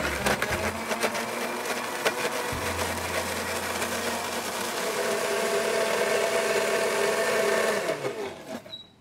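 A kitchen blender whirs continuously, loud and close, purees pineapple paste with a splash of cooking oil, its motor tone shifting slightly before it cuts off at the end.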